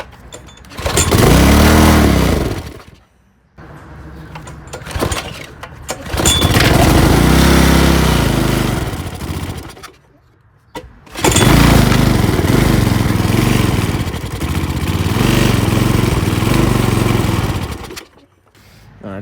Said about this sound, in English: I'm going to fill the bowl of the carburetor up a little bit and see if it'll just fire off on that